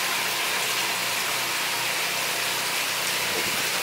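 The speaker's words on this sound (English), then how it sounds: "We've got this nice waterfall here." A pool waterfall feature pours into an infinity pool at a resort in Coron, giving a constant broadband rush of falling, splashing water, close and steady with no breaks.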